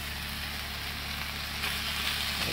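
Mushrooms sizzle steadily on a hot griddle while a cheesesteak is being cooked, a dense, even hiss with no talking over it.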